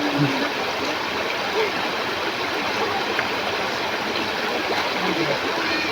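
A river near New Panay where people bathe, its water rushing in a steady, broadband wash that stays fairly loud and constant throughout, with faint indistinct sounds mixed in but no clear talk.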